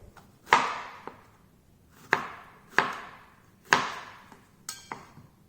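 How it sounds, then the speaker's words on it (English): A knife cuts tomatillos on a cutting board for an Indian-style pickle. Four sharp, separate chops come about a second apart, each followed by a lighter tap, close and clear with no talking. "for this pickle I'm first going to cut these tomatoes"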